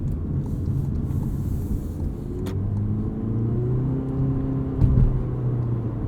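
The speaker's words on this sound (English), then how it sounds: "The engine needs a lot of revs just to get going, and this is an old school CVT." A 2021 Toyota C-HR Nightshade engine drones under acceleration through its CVT, holding a steady, rising whine and rumble from inside the cabin, with a brief bump in loudness near the end.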